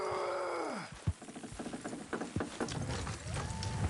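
Horse hooves clip-clop in an uneven, busy rhythm among Red Dead Redemption 2 game ambience, preceded by a falling whistle-like tone.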